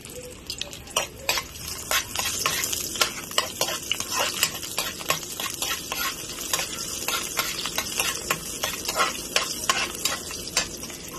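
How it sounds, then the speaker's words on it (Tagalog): Onions sauté in a hot pan for ginisang sayote and carrots, a steady close sizzle broken by frequent clinking, scraping stirs in an uneven rhythm, with no talking. "Mag-isa po tayo ng sibuyas."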